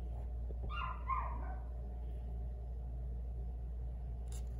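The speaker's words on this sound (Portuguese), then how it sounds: "O cachorro tá latindo" A dog barks a couple of times in quick succession at a moderate distance, then only a steady low hum remains.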